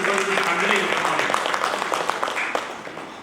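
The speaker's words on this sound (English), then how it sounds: "Please can it be a little thunderous applause, please?" Enthusiastic clapping from a crowd at a panel discussion at an education leaders' summit, dense and steady, gradually tapering off, with a voice speaking over it at the start.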